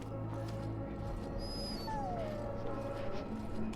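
A dog in the Dragon Age: Origins video game whimpers and gives thin, high yelping whines that slide downward, fairly faint over a steady low game background hum.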